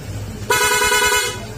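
Horn of a Honda ADV 160 scooter in rapid mode, a loud, close, bright honk that sounds once and holds for just under a second over a low background hum.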